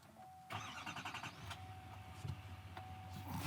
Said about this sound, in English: let's fire this thing up so you can hear the engine